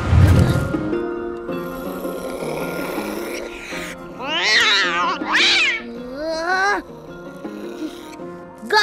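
Cartoon cat in a kids' animated movie meows and caterwauls in several rising, wavering cries over a busy music score, with other characters' voices around it.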